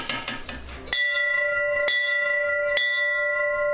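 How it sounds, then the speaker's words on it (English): Three clear, ringing bell strikes about a second apart at a fire station, signaling meal time, each leaving a sustained metallic tone that lingers under the next, following a brief noisy stretch. "3 bells, time to eat, boys."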